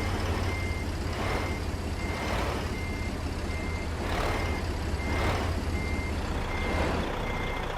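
A heavy truck idles in American Truck Simulator with a deep engine drone while a reversing alarm beeps repeatedly at an even pace.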